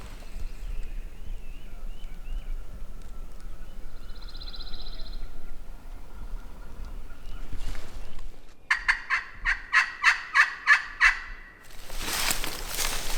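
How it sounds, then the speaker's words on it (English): A wild turkey gobbles far off in quiet woods on Mississippi public land, then a loud, close rapid series of gobble-like calls rings out, followed by a burst of rustling noise. "And he gobbled up in these woods, about maybe 100 yards from the last spot that he was at."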